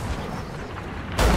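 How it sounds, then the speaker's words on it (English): Ship cannons fire in the pirate video game Sea of Thieves: a dull rumble is followed by one sudden, loud, close boom at the end, with no talk. "I'm gonna hit him with some cannons."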